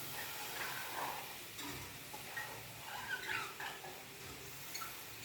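Field beans sauté in a pan for a soft, steady sizzle with faint stirring scrapes and occasional crackles, low and continuous throughout.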